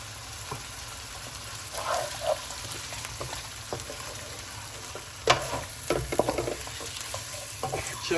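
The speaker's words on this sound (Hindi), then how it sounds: "तकरीबन 5-6 मिनट के लिए भूनते हैं." Half a kilogram of bone-in chicken frying in a pot for Lahori street chicken soup, steady crackling sizzle with intermittent scraping and clanking of a stirring spoon, close up.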